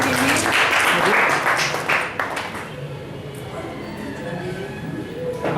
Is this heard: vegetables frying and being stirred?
no